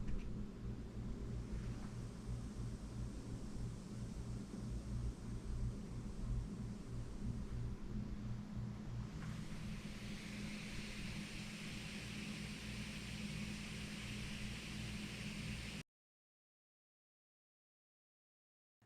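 Steady broadband electrical hiss from Hercules Monitor 5 studio speakers set at 50% volume, a constant even noise floor with low hum, running without talk for about sixteen seconds before cutting to silence.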